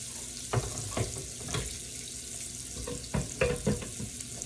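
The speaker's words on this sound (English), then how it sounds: "I like to go ahead on and add my peas inside the pot" Pigeon peas drop into a hot pot over a soft, steady sizzle, with several scattered thuds and splashes and some stirring close by.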